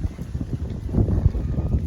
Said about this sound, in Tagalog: lakas ng hangin ngayon guys oh